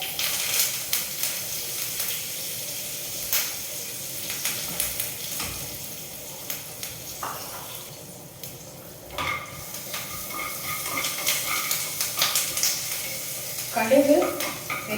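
Mustard seeds, asafoetida, curry leaves and dried red chillies fry in hot oil for a tempering, giving a soft continuous sizzle with occasional stirring clinks and small pops, louder toward the end.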